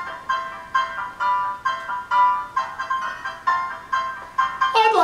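Music played through the built-in speaker of a Toshiba laptop: a bright, thin chiming melody of repeated short notes in a steady rhythm, ending with a brief jangly flourish, no talking.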